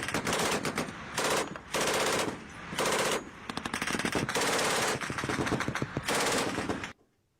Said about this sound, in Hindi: काबुल में तालिबानी लड़ाकों ने जोश में फायरिंग भी की थी